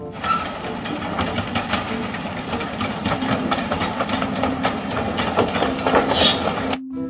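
A toy train runs with a continuous whirring, rumbling drone that holds steady at moderate loudness and cuts off just before the end.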